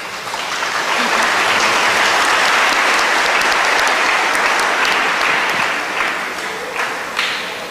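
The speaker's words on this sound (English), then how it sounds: "If you want to applaud, it's okay." An audience at a debate applauds in a steady, dense wash of clapping that holds loud for several seconds before thinning out near the end.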